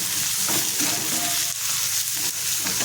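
Turmeric, goda masala and onion-garlic masala fry in hot oil in a pan, a loud, dense sizzle filling the whole moment with faint scraping stirs underneath.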